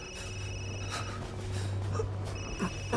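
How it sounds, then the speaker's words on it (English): Telephone ringing in the horror video game Resident Evil Village, a steady electronic ring with sustained tones that start, break off briefly and resume over a low background hum, with no one talking. "Answer the phone."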